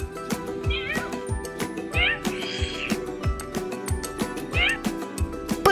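Purro, an interactive toy cat by Hipoland, gives several electronic meows in a regular pattern over a steady background of music with a repeating beat.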